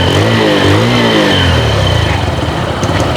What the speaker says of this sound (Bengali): আশা করি আপনারা বাইকের সাউন্ডই শুনতে পারতেছেন